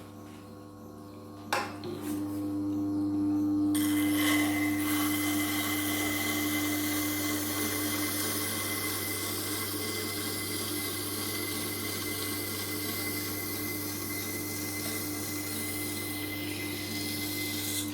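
A 400 grit CBN grinding wheel spins up with a short clack and settles into a steady, humming motor whine with a broad grinding rush beneath, running continuously without talk.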